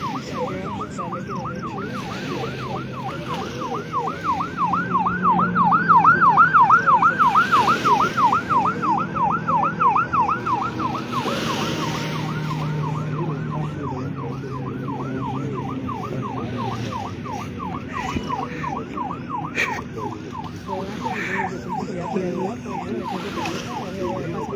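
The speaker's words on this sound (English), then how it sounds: "You listen to the siren." A siren wails during a joint paramilitary security training exercise with speedboats on the water. The rapid, warbling rise-and-fall cycles continue throughout, swelling louder and then holding steady over engine rumble and faint background voices.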